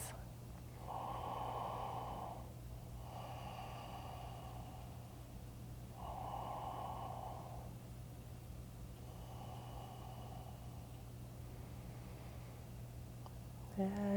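Slow, deep breaths during a seated chair yoga pose, with four soft inhale and exhale swells in a steady rhythm over a constant low hum, close and gentle, with no talk.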